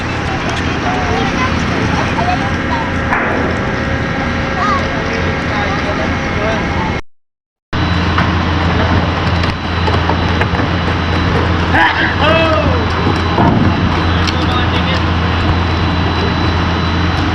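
Vehicles rolling off a passenger ferry at the Port of Lucena, a dense steady rumble of engines and clanking under continuous nearby chatter, with a brief dropout midway.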